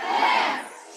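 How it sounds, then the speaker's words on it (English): A crowd of young people jeers and hollers in one loud, sustained burst of massed voices that fades slightly toward the end. "The crowd immediately started to jeer."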